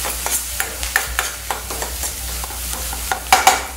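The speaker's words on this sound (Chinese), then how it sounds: "稍微炒一下，炒软就可以了哈，" Ingredients are stir-fried in a wok until softened, with repeated scraping and tossing strokes over a light continuous sizzle, the spatula clatters landing in irregular bursts close by.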